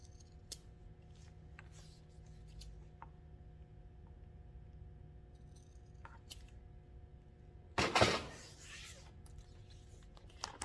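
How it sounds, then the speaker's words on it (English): Scissors snip off the end of a fabric tote bag handle: one sharp, crunchy cut stands out against a quiet room hum. Faint clicks and handling noises come before it. "we're just going to cut off the end that does not line up"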